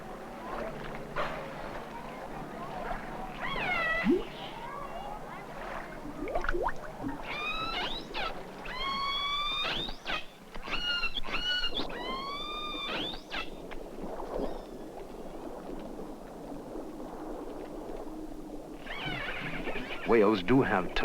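Whale calls played through an underwater speaker to a whale at sea: a run of rising, squealing whistles clusters in the middle, with quieter tonal cries before and after over a low, murky underwater background.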